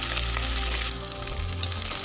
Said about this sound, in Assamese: এয়া মাছখিনি ভাজি লৈ আছোঁ।